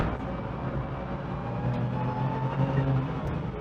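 A 580 hp BMW M2 lapping a racetrack, a steady loud engine drone with road and wind roar heard from inside the car, continuous and unbroken.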